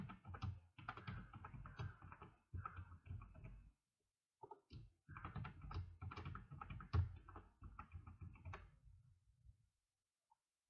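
Someone types a password on a computer keyboard, with quick bursts of close, crisp key clicks separated by short pauses and a last faint tap after a long gap.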